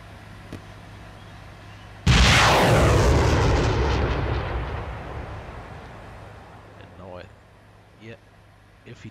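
ATGM missile exploding in the Steel Beasts tank game, one sudden heavy blast that rolls out into a long fading rumble over several seconds, with someone talking faintly before and after.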